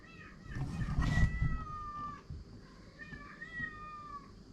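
A cat meows several times, each meow a drawn-out, wavering cry, with a low rumble underneath at first and a fainter meow following, nearby outdoors.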